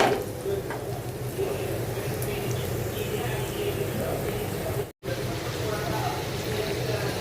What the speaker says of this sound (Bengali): এই তো মাছ ভুনা করার জন্য এখানে পেঁয়াজটাকে ভেজে নিচ্ছি।